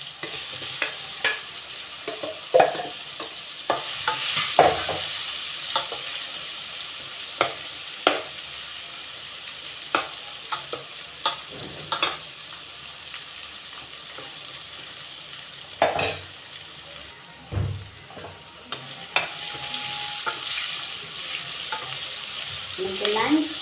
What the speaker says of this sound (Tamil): முதல்ல இதெல்லாம் ஃப்ரை பண்ணிடலாம்